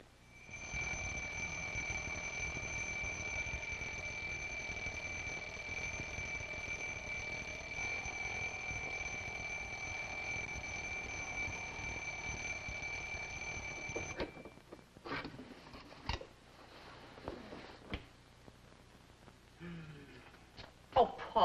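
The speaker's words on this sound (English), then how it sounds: "The alarm went off." An alarm clock rings continuously with a steady, shrill electronic tone for about fourteen seconds, then stops abruptly, followed by quieter rustling and movement.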